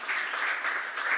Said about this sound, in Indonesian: ayo berikan tepuk tangan buat saudara